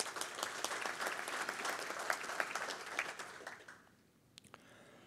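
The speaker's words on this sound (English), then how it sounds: "a round of applause goes to you" Conference audience at a vehicle logistics industry event applauds a speaker with brisk, sustained clapping for about four seconds, then it fades out into near quiet with a couple of stray claps.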